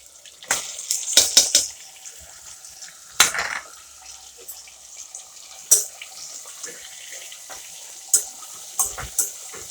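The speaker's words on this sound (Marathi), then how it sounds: "वांगे चांगले हलवूया आपण मस्त त्याला तळतळतात" Eggplant frying and being stirred in a pan with potatoes, giving a wet, watery sizzle with scattered sharp clatters and scrapes of a spoon against the pan, fairly close and steady, no talking.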